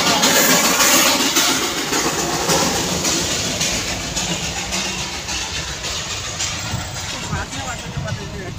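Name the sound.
Darjeeling toy train passing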